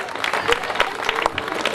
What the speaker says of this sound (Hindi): उनकी हौसला यहाँ पे घूम के जोरदार तालियां हो जाए।